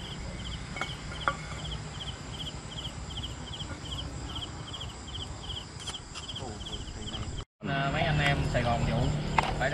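Crickets chirp in a steady pulsing rhythm over a noisy outdoor background at night at a campsite on Cù Lao Long Hựu in Vietnam's Mekong Delta, with the scene shifting abruptly to louder sound near the end.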